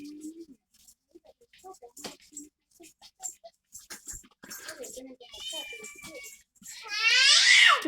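A house cat meows indoors. A few soft calls sit among quiet background sounds and faint talk, followed by a louder, drawn-out meow near the end.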